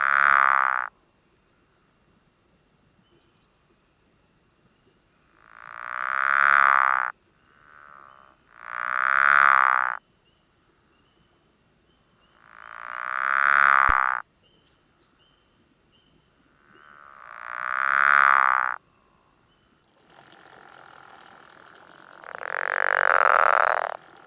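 A frog gives five or six long, loud croaking calls, each lasting about two seconds and separated by quiet gaps, with a fainter shorter call between them, heard alone and close.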